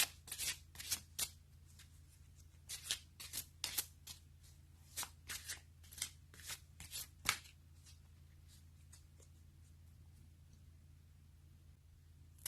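A deck of cards is shuffled and riffled, sharp papery bursts repeating in quick groups for several seconds, then fading to quiet with a final single snap, close and clear over a low steady hum with no talking.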